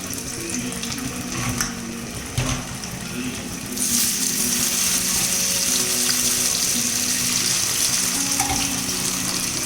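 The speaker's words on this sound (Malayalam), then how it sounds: "നമുക്കിനി ഇത് ഓരോ പീസായിട്ട് ഇട്ട് കൊടുത്ത് വറുത്തെടുക്കാം" Marinated chicken 65 pieces go one by one into hot oil, and a steady sizzle of close, crackling frying becomes noticeably louder and brighter partway through as more pieces are added.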